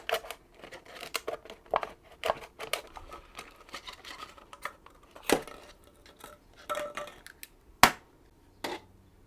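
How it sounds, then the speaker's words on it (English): A plastic cup being cut for a DIY mite testing cup gives off a string of small, sharp snips and crackles, close and quiet, irregular with a few louder snaps. "Step 1, cut the cup."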